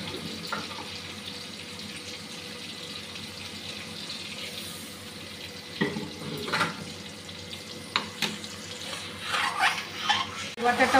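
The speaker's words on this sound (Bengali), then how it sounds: "এখন সর্ষে বাটাটা দিয়ে দিচ্ছি।" Mustard paste fries in a pan with fried chilli powder and turmeric, a low steady sizzle up close, followed by scraping stirs and splashy clatters toward the end.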